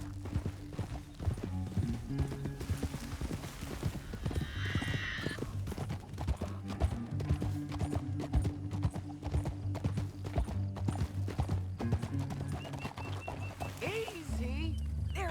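Horse hooves clip-clop steadily in Red Dead Redemption 2, a continuous rhythmic trotting with a couple of brief neighs, under intermittent talk.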